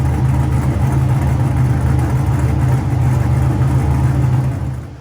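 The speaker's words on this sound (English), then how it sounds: "We're around 82, 83 decibels at idle. No muffler, straight through." A car engine idles through a straight-through exhaust with no muffler, making a loud, close, continuous low rumble with a steady throbbing pulse that eases off slightly at the end.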